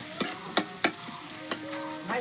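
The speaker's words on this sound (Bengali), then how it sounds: "বাটারের মধ্যে আমি দিয়ে দেবো একটু রসুন কুচি, একটু আদা কুচি দিয়ে বাটারের সঙ্গে সামান্য একটু ভেজে নেবো" Chopped garlic and ginger frying in butter in a pan, with a soft steady sizzle broken by several sharp scrapes and taps of a spatula stirring.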